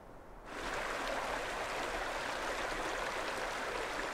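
Shadow Creek in the Ansel Adams Wilderness of the Sierra Nevada, California, rushing in a steady broadband roar that swells up after a brief quieter moment and holds constant, moderately near, with no voices.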